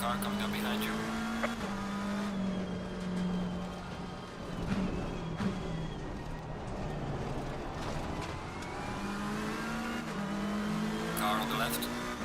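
Race cars in the Assetto Corsa Competizione racing sim, a steady near engine drone rising and falling through gear changes, loud and continuous, with voices speaking over it.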